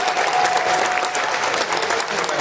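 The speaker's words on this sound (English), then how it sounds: "Big round of applause for all these engineers." A crowd at the Aptera CES after-party at Area 15 gives the engineers a loud, sustained round of applause.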